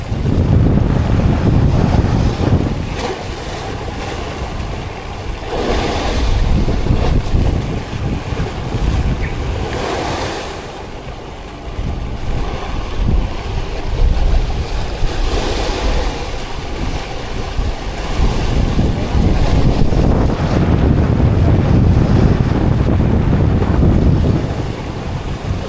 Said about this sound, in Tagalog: Alon ang panahon.